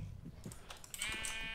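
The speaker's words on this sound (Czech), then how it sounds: "Dvě ovce tu jsou." Sheep bleat in a Minecraft world, a short wavering call near the end, preceded by faint keyboard tapping and soft game background sounds.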